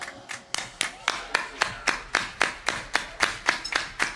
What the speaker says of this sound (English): give me some of that old soul clap